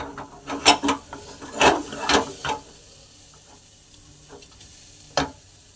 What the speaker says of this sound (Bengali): তেল দেবো, তেজপাতা দেবো, শুকনো লঙ্কা দেবো, আলুটা দিয়ে দেবো